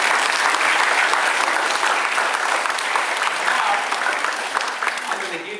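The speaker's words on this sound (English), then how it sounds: "clap hands for Laura." A school audience claps for a student named Laura: loud, dense applause from a roomful of hands that holds steady and then eases off slightly at the end, with voices mixed in.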